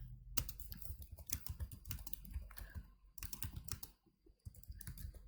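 Steady, close typing on a computer keyboard while entering a code comment in Python, dense key clatter with a brief pause before it resumes.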